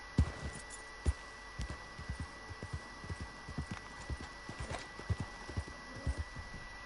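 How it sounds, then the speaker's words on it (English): Horse hooves in Red Dead Redemption 2 shuffle and clop in an irregular sidestepping pattern, close and moderately loud, over a low steady hum with no talking. "the horse is sidestepping"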